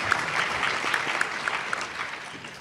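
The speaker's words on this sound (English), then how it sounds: "Let's give all of our spellers a big round of applause, for our first round" A school spelling bee audience claps for the spellers after the first round, a steady dense patter of many hands from a moderately distant crowd with no talking.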